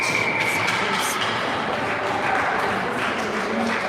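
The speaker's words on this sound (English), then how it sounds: "Parents clapping for the penalties." Parents in the stands clap steadily through a girls' hockey game between Rebels Black and Calgary Fire Red, a dense, continuous patter of applause blended with arena crowd noise for several seconds.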